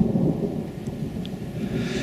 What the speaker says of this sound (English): got a thunderstorm rolling in.